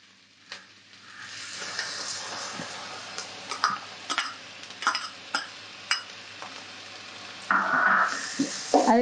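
Ginger garlic paste sautés in a pan with sliced coconut for a Pallipalayam chicken fry, a steady close sizzle broken by repeated scraping stirs and a louder burst of frying near the end.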